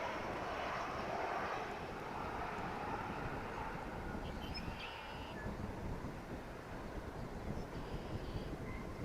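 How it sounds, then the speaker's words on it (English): A Boeing 777 airliner arriving at DFW airport from Seattle, heard as a steady, loud jet engine roar that holds broadly throughout, mixed with gusty wind noise against the microphone. "that'll be followed by a 777 coming in from Seattle"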